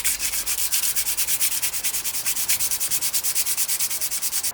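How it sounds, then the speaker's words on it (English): Hand sanding a wooden chair with 120 grit sandpaper: close, loud, even back-and-forth rasping strokes in a quick steady rhythm, with no talking. "I'm gonna start out with the 120 grit just to see"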